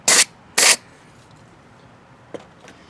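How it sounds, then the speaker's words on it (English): Starting fluid sprayed into the carburetor hole of a Pulsar 1200W portable generator, two short hissing bursts close by, followed by faint small handling clicks. "just spray a little bit in that little hole here."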